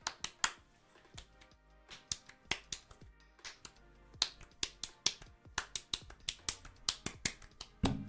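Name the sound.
little clapping in a song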